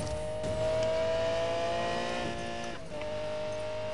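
A Lamborghini Murcielago accelerates in Need for Speed, its engine note rising steadily in a loud, sustained whine with clear climbing pitch and a brief dip near the end, heard alone.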